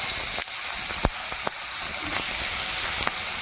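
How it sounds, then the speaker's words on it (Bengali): Prawns rubbed with salt and turmeric frying in a pan give a steady, loud sizzle with hiss, broken by a few sharp pops and crackles near the start and end. "এখন আমি চিংড়ি মাছগুলোকে ভেজে নিচ্ছি।"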